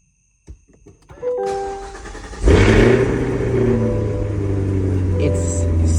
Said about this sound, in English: this is one of the loudest cars ever.